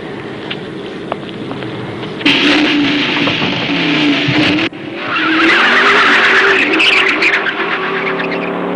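A car drives hard, its engine roaring loud and close, with long tire squeals from skidding that stop briefly and then resume; no talking.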